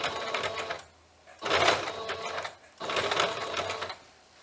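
Sewing machine stitching a bag in two loud bursts separated by a pause, the second run ending with a short reverse backstitch, close and clear with no talking.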